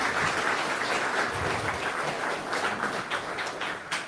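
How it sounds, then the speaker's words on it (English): An audience claps at a debate, a continuous wash of moderate applause with occasional sharper individual claps standing out, no voices heard over it. "Are they literally clapping at that?"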